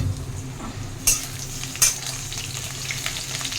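Onions and panch phoron fry in a pan, giving a steady close sizzle with occasional stirring. Two sharp metallic clinks of a utensil against the pan stand out, and no one talks.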